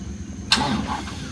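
Chevrolet Trailblazer 4x4 engine starting off-road, a sharp crank burst catching into a low, rumbling idle, close and steady for the rest.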